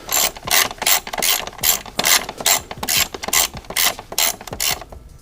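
Ratchet tightening aluminum E10 bolts on a BMW N54 valve cover: a close, crisp series of about a dozen clicking ratchet strokes in an irregular back-and-forth rhythm, with no talking.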